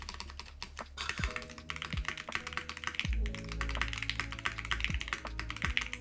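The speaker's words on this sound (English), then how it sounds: "This is still the nicest keyboard to type on." Steady, quiet clacking of keys on a Ducky One X Mini mechanical keyboard, rapid and irregular, with a few heavier thocks mixed in; no voices.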